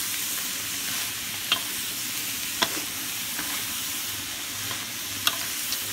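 Pickled radish stir-fries with pork and egg in a pan, giving a loud, continuous sizzle with a few sharp clicks from the spatula scraping and turning the food.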